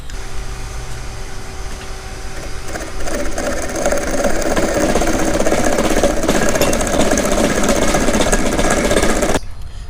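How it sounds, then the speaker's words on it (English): A tubing notcher in a fabrication shop cuts into a short metal tube with a harsh, continuous grinding rasp that swells louder partway through, holds steady, then cuts off abruptly near the end. "The other cool thing that we've got here, and I'll show you this, is this tubing notcher."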